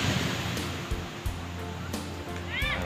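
Surf washes steadily onto a beach at the Wedi Awu tourist spot in late afternoon, a continuous broadband roar with occasional brief clicks and a faint higher cry near the end.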